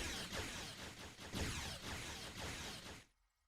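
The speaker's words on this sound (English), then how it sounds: "That's cannon scatter volley missing all over the place right there." Cannon scatter volley fire in a space combat video game: a rapid series of loud, overlapping blasts in a rough pulsing rhythm, continuing for about three seconds before dropping away.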